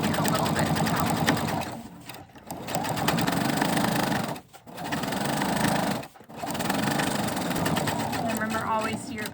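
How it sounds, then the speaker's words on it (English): A sewing machine stitches a seam on a Halloween ghost tote bag with a close, continuous mechanical whirring that pauses briefly twice, while a voice talks over it. "here I am just going to sew down"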